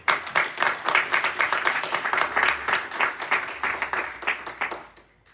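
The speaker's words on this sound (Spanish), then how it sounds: "Denle un aplauso al Señor." A church congregation applauding at a Spanish-language service, steady rhythmic clapping that fills the room for several seconds before tapering off into quiet.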